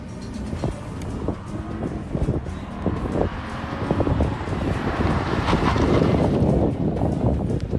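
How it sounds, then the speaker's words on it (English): Lexus IS 250 fitted with IS/GS 350 brakes in a hard braking test, tires scrubbing and screeching over heavy road and wind rumble, the noise building toward the end as the car stops, with no voices. "You heard the tires screeching?"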